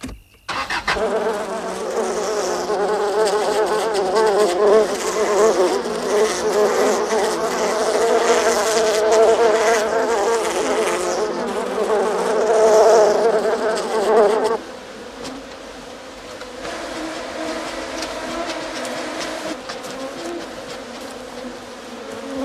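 A swarm of killer bees buzzes as a film sound effect, a loud, dense drone that holds for about fifteen seconds, then drops abruptly to a quieter, thinner hum.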